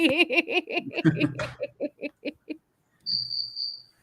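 A cell phone ringtone imitating cricket chirps sounds as a steady, high, buzzing trill near the end, after a run of rhythmic chirping and laughter-like bursts.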